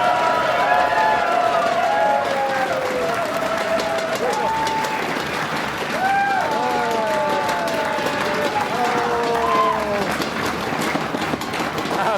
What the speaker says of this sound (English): You got a lot of applause